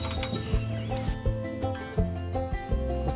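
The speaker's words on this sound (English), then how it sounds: "Campbell, can you get the crickets?" Crickets kept as fishing bait chirp in steady pulsing trills, close and moderately loud, while other outdoor sounds come and go in the background.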